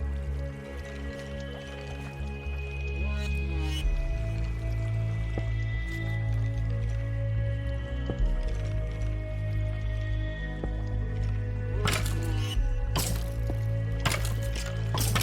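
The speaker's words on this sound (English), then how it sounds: "Why is that water coming down?" Water pouring down in a Minecraft-style block game with shaders, a continuous splashing flow with a low steady drone beneath and a few brief clicks and crackles.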